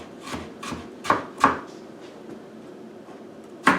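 A knife slices vegetables into thin pieces on a board, giving a few soft irregular cuts, two of them sharper, then a pause and one more cut, close and fairly quiet.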